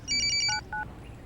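A telephone gives a short electronic ring, two quick bursts of tones, close and clear over a quiet background.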